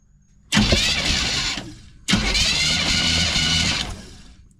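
Car engine cranking and catching twice in a row after a cylinder compression check, each start roaring loudly for over a second before cutting off, nearby and with no talking.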